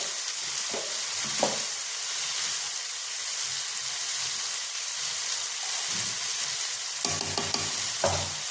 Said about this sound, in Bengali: এবার কিন্তু মশলার সঙ্গে আমি খুব ভালো করে সবটা মিশিয়ে দেবো।